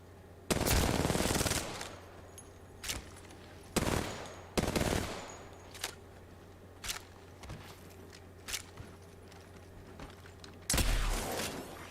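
Video game gunfire crackling in several loud automatic bursts, with shorter single shots and quieter pops scattered between them, plus faint footsteps and mechanical clicks.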